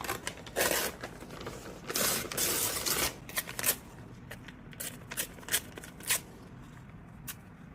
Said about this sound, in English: So I grabbed a brown paper bag and started tearing pieces from it.